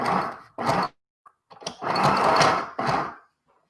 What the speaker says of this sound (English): So I'm going to, as I'm sewing,